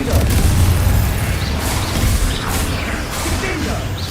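Confringo fire spell explosions in Hogwarts Legacy, repeated loud booming bursts amid busy combat effects, with a voice talking over the action.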